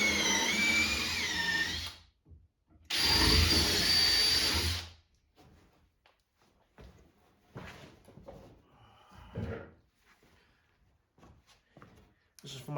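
Power drill boring a hole through a wooden block glued onto plywood, two loud sustained whirring bursts close by, separated by a short pause, followed by quieter workshop clatter and handling sounds.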